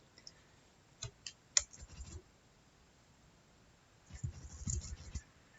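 Faint, sparse computer mouse clicks, a few isolated taps early on and then a short cluster of quicker clicks near the end, quiet against a low background hiss.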